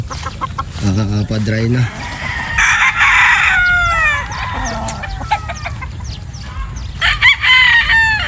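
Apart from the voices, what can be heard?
broodstag roosters crowing and clucking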